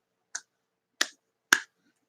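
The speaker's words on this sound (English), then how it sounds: "It begins with a circular clapping motion" Three sharp, isolated hand claps or snaps, close and crisp, spaced roughly half a second apart with silence between them.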